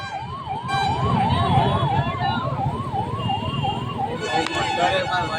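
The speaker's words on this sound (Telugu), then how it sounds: "ఆదిలాబాద్కు నరేంద్ర మోడీ రోడ్ తొవ్వియండి అన్న తొవ్వియండి అంబులెన్స్కు తొవ్వియండి" An ambulance siren wails in a fast repeating up-and-down pattern through a political rally in Adilabad, loud and close over a busy crowd and traffic din, with voices mixed in.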